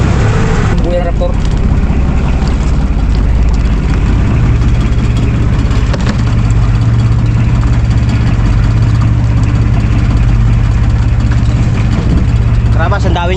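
A boat engine runs steadily and loudly throughout, a continuous low droning hum with people talking over it.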